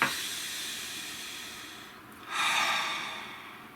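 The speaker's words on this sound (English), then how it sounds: "Nice deep breath, please." A single person takes a deep breath, a long, soft airy inhale followed after a brief pause by a louder, hissing exhale, close and clear with no talking.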